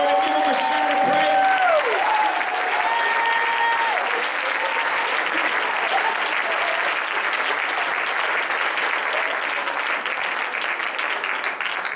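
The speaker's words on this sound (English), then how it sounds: "Somebody ought to clap their hands to the Lord and give them a shout of praise" A church congregation at a youth rally claps and shouts praise. Sustained loud applause fills the whole stretch, with a voice rising over it at the start.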